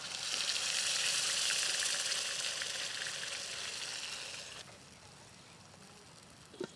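Onion, mustard seeds, bay leaf and ground masala frying in about a hundred grams of oil for Khandeshi shev bhaji, a loud steady sizzle that eases down midway, ending in a quieter hiss with a brief clink.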